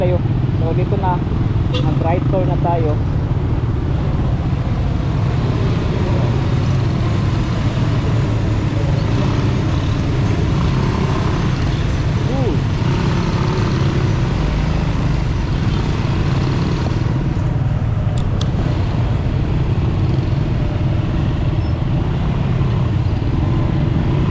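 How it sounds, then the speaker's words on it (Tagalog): Heavy road traffic on a bypass road near an airport, a loud continuous roar of passing vehicles and engines close by, with people talking over it. "yan grabe ka traffic"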